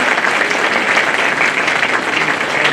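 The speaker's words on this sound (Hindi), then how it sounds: "अपने लिए तो ताली बजाओ भाई" Dense applause from an audience of enrolled members at a Bar Council event, a steady wash of many hands clapping together at close range with no break for the whole stretch.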